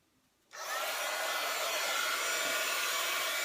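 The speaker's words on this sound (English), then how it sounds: "I'm just going to let my heat tool heat up for just a few seconds." A craft heat tool switches on abruptly after a moment of quiet, then blows with a steady, loud, breathy whoosh that holds without change.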